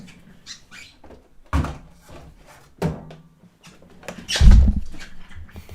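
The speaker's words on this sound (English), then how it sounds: "You can hear the squeaks of my feet." Feet squeaking on a lab floor: several short, scattered squeaks and scuffs at irregular intervals, close by, with a louder cluster of scraping thumps near the end and quiet pauses between.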